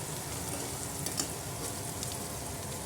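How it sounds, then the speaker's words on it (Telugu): Sliced onion frying in a pan with ginger garlic paste and turmeric for egg biryani, a steady soft sizzle and crackle throughout, close and continuous with no talk. "గోల్డ్ కలర్ వచ్చే వరకు ఫ్రై చేయాలండి ఆనియన్"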